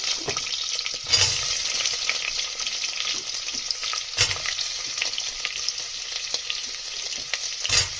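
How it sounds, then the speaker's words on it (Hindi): Sweet potatoes fry in ghee in a pan over a low flame, with a continuous bright sizzle and a few louder spatters and stirring scrapes spaced through. "अब हम इसमें ये स्वीट पोटैटो डाल रहे हैं।"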